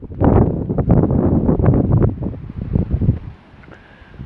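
Wind outdoors near an 18th-century church, heavy gusts buffeting the microphone in loud, rough bursts that ease off toward the end.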